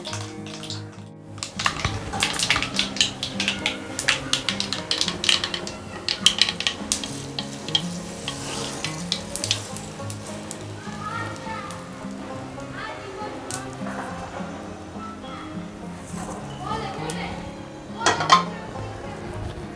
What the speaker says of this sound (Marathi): मी आता इथे दोन झाऱ्यांच्या मदतीने छान असं मिक्स करून घेते हे सगळं